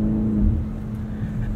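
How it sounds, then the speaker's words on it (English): A BMW Alpina XB7 bi-turbo V8 pulls hard from inside the cabin, a loud, steady low drone with a sustained engine tone and no speech. "Throttle response and the immediacy from this bi-turbo V8 is really impressive."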